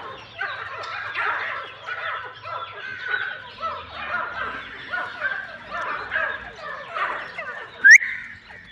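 Iranian partridges (teetar) in a breeding enclosure call in a series of rhythmic, chattering bursts at moderate distance, with one sharp, high whistle near the end.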